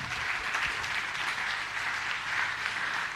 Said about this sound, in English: Let's have a round of applause for our Youth and Data cohort